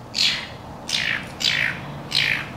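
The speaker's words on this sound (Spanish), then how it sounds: "Un pajarito. Empiezo a ver pajaritos aquí." Small birds chirp outdoors during a yoga session in Baja, giving four short, bright tweets spaced evenly about half a second apart, moderately near over a soft background.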